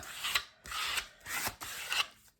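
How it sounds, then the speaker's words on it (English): Junk mail paper being trimmed for an envelope lining, four rasping strokes in a steady rhythm, close and fairly quiet with short pauses between them. "let's trim this up"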